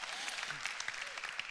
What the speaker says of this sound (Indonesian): mari kita sambut firman Tuhan dengan tepuk tangan yang meriah